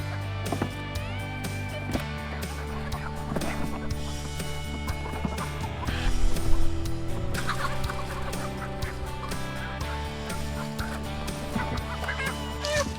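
Rhode Island Red chickens cluck and squawk loudly at close range on a processing day, with overlapping calls that swell into a busier burst midway through.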